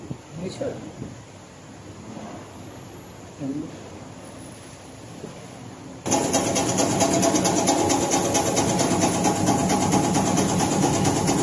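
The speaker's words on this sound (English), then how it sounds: "the hydraulics pushes the plate to clamp the valve, safety valve" A hydraulic pump on a Good Gear GGS-3100-3 low-to-middle pressure PSV test bench drives a plate to clamp a safety valve. A quiet room with faint voice gives way halfway through to a loud, steady mechanical whir that holds to the end.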